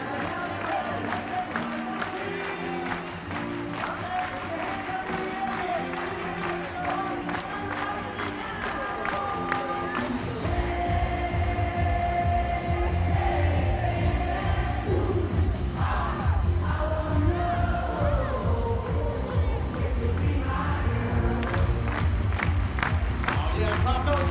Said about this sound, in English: Let's clap those hands, everybody.